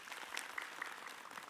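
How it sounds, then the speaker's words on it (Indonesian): An audience gives a woman among them a short round of applause. The brief, faint clapping patters quickly and evenly. "Tepuk tangan dulu buat Ibu"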